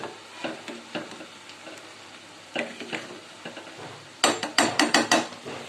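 A spoon scrapes and clanks against a pot while pasta is mixed with onion in a tempering, giving sharp rhythmic knocks in bursts, busiest toward the end, over a faint sizzle.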